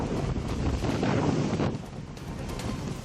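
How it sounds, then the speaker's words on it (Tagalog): Strong typhoon wind and rain batter Northern Luzon, a loud gusty roar buffeting the microphone that peaks early and eases slightly toward the end. "Ramdam ang malakas sa ulan at hangin dala ng bagyong Francisco sa Northern Luzon."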